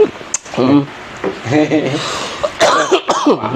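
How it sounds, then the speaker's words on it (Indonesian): A person coughs briefly between stretches of talking voices. "Duh, batuk nih."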